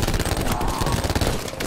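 Rapid automatic gunfire from Call of Duty Black Ops 4 Zombies, in the Blood of the Dead map, fills the whole moment as a dense, loud, continuous rattle of shots with no pauses.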